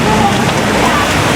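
Steady rain falls outdoors as a dense, loud, even hiss filling the whole moment, with no clear voices over it.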